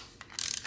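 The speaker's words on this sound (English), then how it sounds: "to have that ratcheting effect in a hard to reach place" A compact plumbing ratchet wrench for tight spaces gives a brief burst of quick metallic clicks, close and loud, with no talk.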